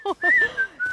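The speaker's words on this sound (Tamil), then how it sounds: "ஆனா தொடர்ந்து முயற்சி பண்ணி இவரும் விசில் அடிக்க கத்துக்கிறாரு" An animated character learning to whistle produces a short run of warbling whistled notes, rising and sliding tones broken by brief breathy gaps, close and fairly loud.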